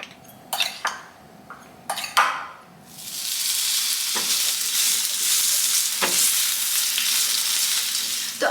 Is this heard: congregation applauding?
no